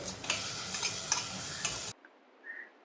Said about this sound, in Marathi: मिडियम गॅसवरती कांदा जरासा आपण परतून घेऊया